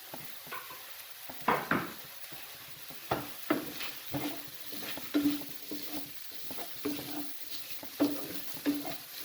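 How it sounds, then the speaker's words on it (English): Chopped onions for a paneer curry sizzle in a pan, punctuated by repeated stirring scrapes and clinks at an irregular pace, close and fairly quiet. "Then I'm going to add in the onions."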